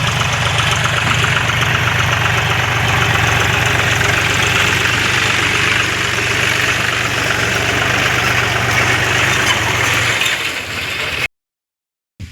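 A tractor engine runs steadily with a loud, low chugging drone for about eleven seconds, then cuts off abruptly to silence.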